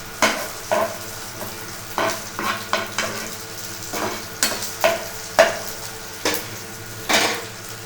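Cumin seeds fry and crackle in a pan while a spoon stirs them during cucumber chutney preparation, giving repeated sharp scraping and sizzling bursts at an uneven rhythm, close and moderately loud, with no talking.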